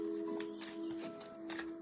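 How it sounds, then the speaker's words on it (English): A deck of reading cards is shuffled by hand, a quick series of soft riffling and flicking bursts over a constant low hum, with no talk. "Okay, quick shuffle here."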